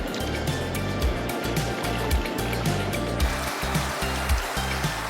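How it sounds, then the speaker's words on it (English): A gold pan filled with water and small rocks is shaken by hand at China Creek, giving a steady, rhythmic sloshing and churning that repeats in short, even pulses close by, with no voices. "I'm going to fill the pan full of water and kind of give it a shake."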